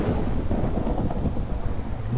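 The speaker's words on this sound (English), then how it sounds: "you can see instantly it changes into a thunderstorm" Thunderstorm weather in the Minecraft video game: a steady, loud wash of rain and wind with low rumbling throughout, no voices.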